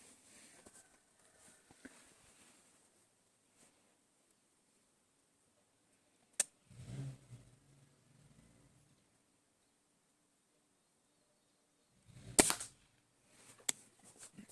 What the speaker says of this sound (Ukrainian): Хоча б мінімум три треба постріли зробити